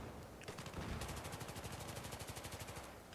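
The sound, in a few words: suppressed gunfire in video game Battlefield 3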